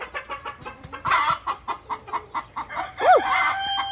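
Ten chickens cluck repeatedly in a coop during a lice treatment, close and busy rhythmic clucks, with a rooster-like crowing call near the end.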